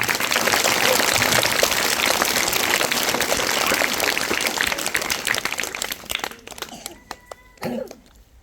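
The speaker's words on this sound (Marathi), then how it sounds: "यासाठी एक बार जोरदार टाळ्या वाजवा" Schoolchildren at a school math quiz burst into loud, dense clapping for about six seconds. It then thins to scattered claps and stray noises before fading out.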